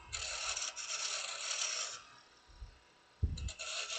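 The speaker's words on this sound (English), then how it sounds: "My small roughing gouge again, just to clean that up." A small roughing gouge cuts wood on a spinning lathe, giving a close, bright rasping scrape in two long passes, then short bursts with a low thump near the end.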